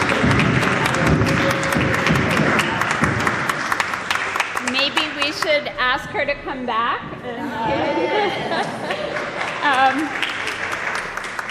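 Audience applause at a community forum on local eating, a broad clapping wash that fills the opening seconds and thins later beneath clear spoken talk.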